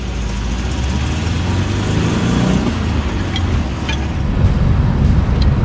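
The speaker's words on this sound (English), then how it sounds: "A little bit of a high idle now." A camper bus engine runs at a high idle, a steady loud low rumble and drone that holds constant throughout without revving, and no voices are heard.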